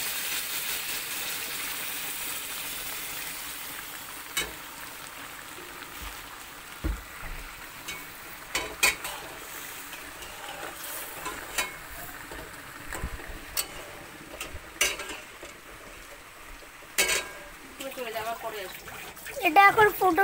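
Poppy seed paste curry with water simmers in a pan for a Bengali prawn malaikari, giving a soft, steady bubbling hiss broken by small pops and occasional utensil clicks.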